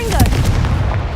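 A Confringo spell is cast in Hogwarts Legacy, giving a loud, close, explosive blast that crackles and rumbles briefly, with a voice faintly present under it.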